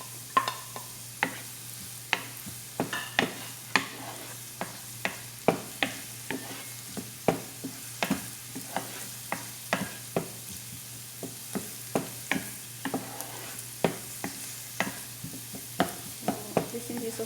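Chopped garlic sautés with onions in a pan for ginataang kundol, a soft steady sizzle broken by frequent sharp clicks and taps of a spatula stirring against the pan.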